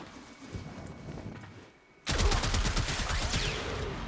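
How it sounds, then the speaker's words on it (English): Rapid heavy rifle fire from the Trumna in Warframe cuts in abruptly after a quieter stretch, then continues as a loud, dense burst of repeated shots to the end. "Now I'm gonna show you by shooting them."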